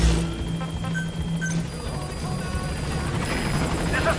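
Pequod support helicopter from Metal Gear Solid V: The Phantom Pain arriving at a landing zone, a steady rotor roar and engine drone filling the scene with game sounds and faint tones layered over it.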